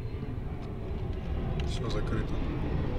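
Airplanes rumble overhead in the Evil Inside game, a low broad roar that swells gradually while someone talks over it.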